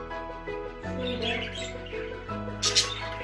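A pair of pet budgerigars, one male and one female, chirp and tweet in short bright calls indoors over a steady low hum, with a louder burst of chirping near the end.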